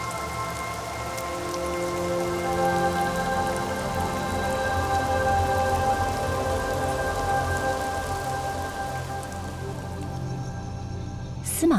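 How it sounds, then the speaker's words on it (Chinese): Steady rain falling on mountain forest around Smangus, a dense even hiss of drops continuing for several seconds at moderate loudness, ending in a sudden brief thump. "回程路上，雨滴哗啦哗啦降落，湿润了大地。"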